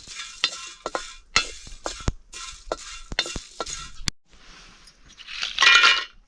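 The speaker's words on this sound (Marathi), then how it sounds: "ते दगड फुल आहे चांगलं भाजून घ्यायचं याला पण" Stone flower spice is dry roasted in a pan, heard as a series of sharp scraping stirs and clinks in an irregular rhythm, followed by a brief rising hiss, close and clear.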